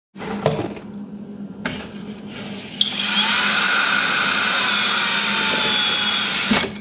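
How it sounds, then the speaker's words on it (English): An electric drill whirs up after a few clicks and handling knocks, then runs at a steady high-pitched whine for several seconds before stopping, during a mini split air conditioner installation. "when you drill a hole with this"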